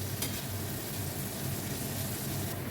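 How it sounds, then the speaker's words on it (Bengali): Sliced onion with a pinch of salt fries gently in oil over low heat, giving a continuous soft crackling sizzle without pause. "পেঁয়াজটা নরম হওয়ার জন্য একটু নুন দেবো, খুব ভালো করে হালকা আঁচ দিয়ে এটাকে ভালো করে একটু ভেজে নেব"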